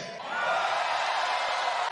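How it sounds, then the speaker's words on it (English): A large WWE wrestling arena crowd cheers and roars, a dense sustained wall of voices at full volume throughout, briefly dipping at the very end. "I'll take the cheer for that."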